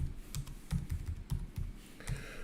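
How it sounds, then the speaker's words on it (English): Typing on a computer keyboard during a work session on a garage and shop design: a quiet, close, irregular run of light key clicks, several strokes in quick succession with brief pauses between them. "We're gonna have to type in the plywood."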